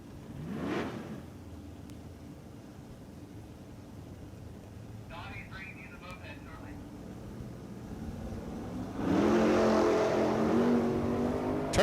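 Drag racing cars launch at the line, including a Chevrolet Monza and a pickup truck, with engines roaring up and building to a loud sustained rush near the end. An announcer talks over the engines.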